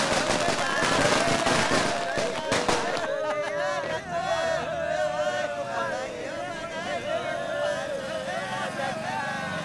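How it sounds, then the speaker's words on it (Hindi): Firecrackers burst in a quick, loud, crackling volley for a few seconds, then give way to voices and general neighbourhood noise. "पटाखों का शोर सुनाई दिया इसलिए पूछा"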